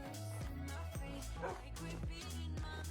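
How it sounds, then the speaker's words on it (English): Wolves in a video game bark and yip in a quick repeating rhythm, loud and close, over a steady dense background of game sound. "If they get to be too annoying on the barking, we can turn that off"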